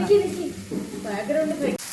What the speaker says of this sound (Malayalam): സവാളയും തക്കാളിയൊക്കെ നല്ല വഴണ്ടി വരുന്ന സമയം